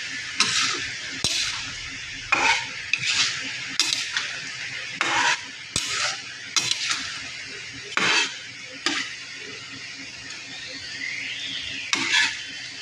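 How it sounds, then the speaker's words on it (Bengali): Fish curry with garam masala stirred in a pan: repeated scraping strokes of a spatula at an uneven rhythm, close and moderately loud, over a faint sizzle. "দিয়ে এটাকে ভালো করে নাড়িয়ে দিচ্ছি"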